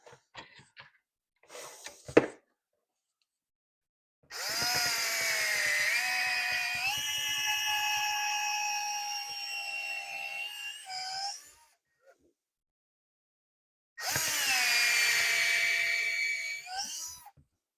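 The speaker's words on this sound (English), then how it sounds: "I'm going to drill this out a little more just so it fits on there nicer" A power drill whines loudly in two long bursts, its pitch shifting as it bites into a John Deere 1025R tractor throttle cap to widen a hole, separated by a short pause of silence.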